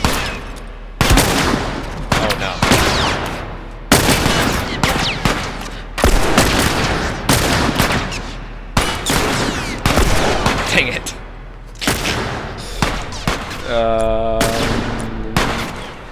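Rapid bursts of gunfire from The Last of Us video game, loud and close, with repeated overlapping shots and heavy booms over about sixteen seconds, a ringing tonal effect near the end.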